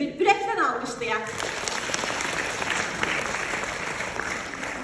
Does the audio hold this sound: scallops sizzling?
no